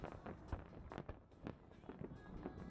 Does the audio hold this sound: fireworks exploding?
yes